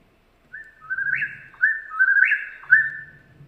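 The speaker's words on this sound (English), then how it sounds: "So for a bird like the eastern whippoorwill" An eastern whippoorwill calls in a clear, loud, repeated whistled phrase, three rising-then-falling notes in quick succession against a quiet background with faint low rumble.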